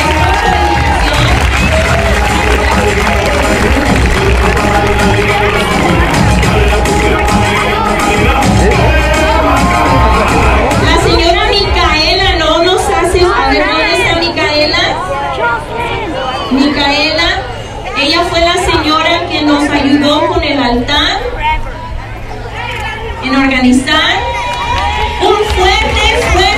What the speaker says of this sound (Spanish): Un fuerte aplauso, por favor, porque es mucha dedicación.